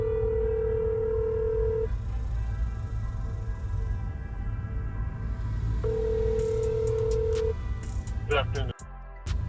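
An outgoing phone call from a mobile detailing business being placed: two long ringback tones separated by a pause, followed by a short burst of chirps and clicks as the line connects, over a steady background hum.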